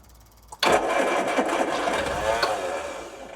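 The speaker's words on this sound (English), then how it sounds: "we'll just try and prime it up with a bit of fuel and then we'll go for a start" A 1980s turbocharged car, found in a barn and in as-new condition after sitting unused for 33 years, is primed with fuel; its engine cranks briefly, then catches and fires up to a loud, steady run that carries on to the end.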